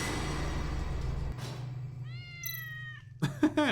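A cat in the game Discovery: Tales of the Neon Sea lets out a single drawn-out meow, followed by a second short, higher cry, heard close and clear over a faint low hum.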